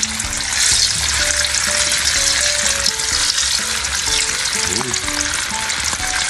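Milkfish (bangus) steaks fry in hot oil, giving a loud, steady crackling sizzle that fills the whole stretch, close up and with no talking.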